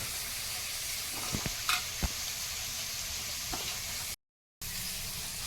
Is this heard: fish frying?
yes